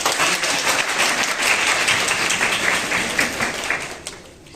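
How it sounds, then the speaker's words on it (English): A big round of applause for the guest speaker, a doctor, at an anti-ragging seminar at a dental college, loud sustained clapping from a hall full of people that fades out near the end. "Kindly, we have a huge round of applause"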